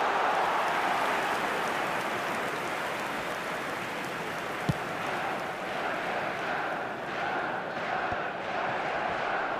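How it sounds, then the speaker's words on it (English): Stadium crowd in an eFootball match, a dense, continuous roar and murmur of a large crowd that holds steady throughout, with faint swells and a brief thump midway. "the crowd have tried to spark some excitement, but to no avail"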